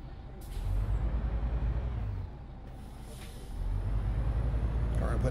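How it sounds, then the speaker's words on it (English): A bus in the OMSI 2 driving simulator on a Szczecin route gives a loud, sustained parking-brake air hiss over a low engine rumble. The hiss dips in the middle and surges back, with brief talk nearby. "Put the parking brake on"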